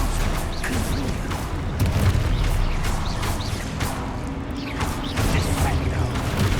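Fiery Confringo spell blasts from Hogwarts Legacy combat, crackling and booming among dense battle noise and mechanical clatter, a loud steady barrage with repeated impacts throughout.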